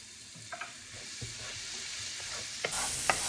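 Ingredients sautéing in a pan for creamy Tuscan chicken pasta, a soft steady sizzle broken by a few light stirring scrapes and taps, close but fairly quiet.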